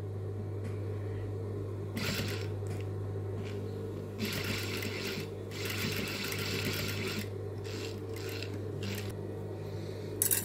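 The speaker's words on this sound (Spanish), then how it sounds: "voy a coser el bretel del lado de arriba" A sewing machine stitches a strap onto a simple sundress top, running as a steady close hum broken by repeated faster bursts of stitching, with no talking.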